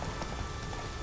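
Roach, Geralt's horse in The Witcher 3 on Skellige, clip-clops with a steady run of close hoofbeats under a dense, noisy game backdrop, with no voices.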